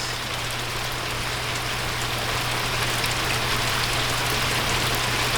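Steady rain falls on an outdoor running track, a dense even hiss that holds through the whole stretch alongside a constant low hum.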